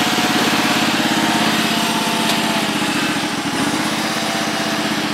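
The engine of a Husqvarna YTH1342XP riding lawn mower with an untouched carburetor runs steadily, a loud continuous idle-like drone close by with no talk.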